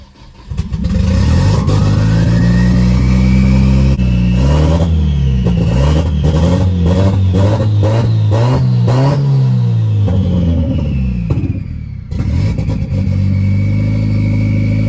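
A Hyundai Genesis Coupe engine, fully built with bigger injectors, cranks to life, then revs up and down repeatedly in quick blips before settling back to idle, loud and close.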